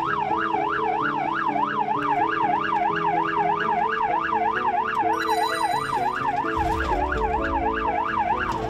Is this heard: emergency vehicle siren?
yes